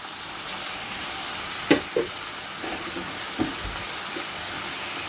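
Tomato puree being stirred into a pork stew in a pot, with soft scraping and a few light spoon knocks over a faint simmering sizzle.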